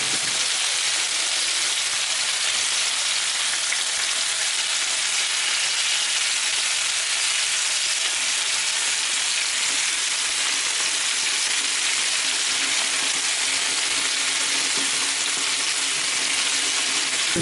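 Chicken pieces for brown stew chicken fry and brown in a pan, a loud, dense, unbroken sizzle and crackle of hot oil running steadily throughout with no voices.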